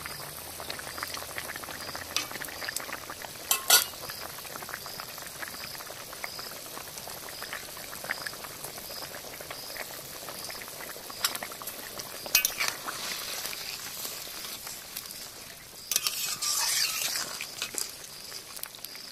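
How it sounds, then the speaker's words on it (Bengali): Tilapia and Malabar spinach curry broth boils in a pot, a steady close bubbling and fizzing that runs without a break, with a few sharper pops and splutters along the way and no voices. "তরকারির ঝোল ফুটে উঠেছে"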